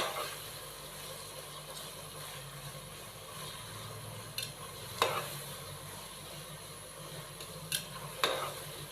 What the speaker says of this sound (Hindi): खड़े मसालों को शामिल करने के बाद हम इसको अच्छे से मिक्स कर देंगे।